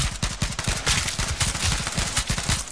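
Rapid automatic gunfire bursts in the battle royale video game H1Z1, dense overlapping shots crackling continuously and loud throughout.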